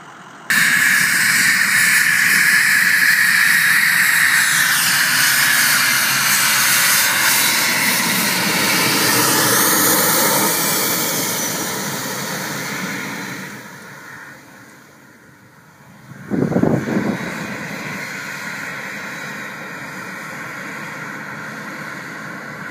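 Jet engines of a Cessna Citation medevac jet starting up at Eufaula, Alabama, a loud, close, sustained whine and hiss that rises and shifts in pitch, fades, then surges again with a brief roaring burst.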